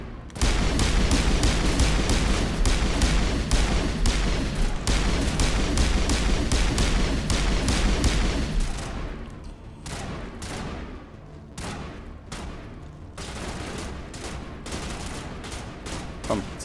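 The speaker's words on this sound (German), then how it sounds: "die Waffen knallen rein" Rapid, dense gunfire from the video game Mass Effect during a Geth attack, loud bursts and volleys running continuously for about nine seconds, then thinning into scattered separate shots that continue to the end.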